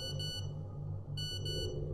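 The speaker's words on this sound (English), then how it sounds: "It's a text message." A phone chirps a text message notification as a short electronic beep pattern, two bright bursts on either side of a pause, over a steady low background hum.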